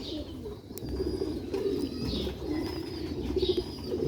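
Old Sialkoti pigeons coo close by in soft, repeated low calls over faint background noise, with occasional higher chirps.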